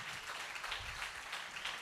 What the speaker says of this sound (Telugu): వారికి కూడా మనం చప్పట్లు కొడదాం.